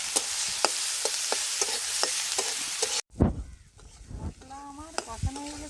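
Turmeric powder, salt and bay leaf sizzle while being sautéd in a pan, with a spoon scraping and stirring in a steady rhythm. After a brief gap the sizzle returns with spoon clatter and a faint voice.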